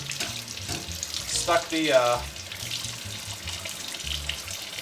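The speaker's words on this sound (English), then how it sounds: "We're going to give it a nice rinse." Tap water, preferably warm, gushes through a trumpet being rinsed at a sink, a steady splashing flow that briefly swells louder midway, with a few spoken words heard over it.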